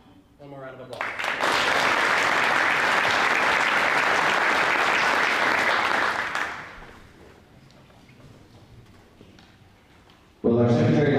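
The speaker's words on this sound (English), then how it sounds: "One more round of applause." Audience applause at an FFA banquet awards ceremony swells in after a short voice, holds loud and steady for about five seconds, then dies away to a quiet room before speech resumes.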